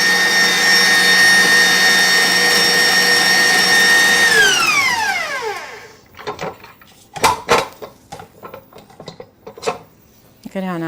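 Electric mixer whipping meringue for a chocolate hazelnut meringue, a loud steady high whine that winds down and stops, followed by scattered clinks and scrapes of the whisk against the bowl.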